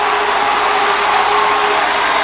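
At a Gaelic football Ulster final between Down and Tyrone, the crowd behind the goals roars for a score, a dense, steady wall of cheering and applause that holds at full volume throughout.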